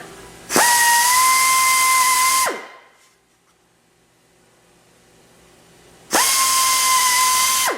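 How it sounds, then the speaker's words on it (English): Two loud bursts of a high-pitched power drill drilling a pilot hole, each running steadily for a couple of seconds, separated by a quiet pause with no talking. "Now we're going to put a pilot hole right in the center of this mark."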